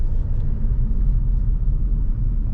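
A Bajaj auto-rickshaw engine pulling in first gear, a loud, close, continuous low rumble with a slightly uneven throb and no talk.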